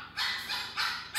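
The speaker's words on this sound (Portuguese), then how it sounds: "Tem uns doguinhos latindo aí" Small dogs barking at a garden plant nursery in Joinville, a few short bursts of yapping at moderate distance, no talk over them.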